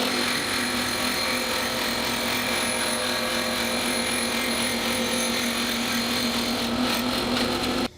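Band saw with a 14 tooth per inch blade cutting a thin wooden laminate strip for a guitar rosette ring, a steady, even buzzing whine running for about eight seconds before stopping abruptly.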